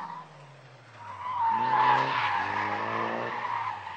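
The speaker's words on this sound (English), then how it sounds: "the drifting was pretty exciting too" A drifting car at a car show in Vallejo, California, with its tires squealing in a long, loud, sustained screech over the rising drone of the engine, and no talk.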